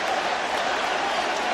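A packed stadium crowd roars after Mike Piazza's two-run home run for the New York Mets, a steady, dense wall of cheering and applause heard alone.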